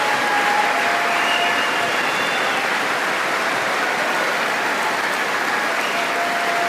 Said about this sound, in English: Israel's Benjamin Netanyahu arrived in the US and spoke before Congress, to which many of his statements were applauded quite adamantly.